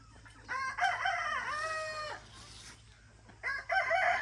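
Chickens being handled for NPIP testing vocalize in loud, agitated bursts of clucking and crowing-like calls, two clusters separated by a brief lull, close to the listener with no talk.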